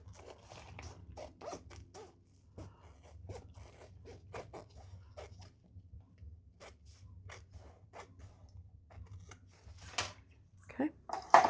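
Scissors trimming excess from the bottom edge of a leather wallet, a series of faint crisp snips and rustles at close range, getting a little louder near the end, under quiet background noise.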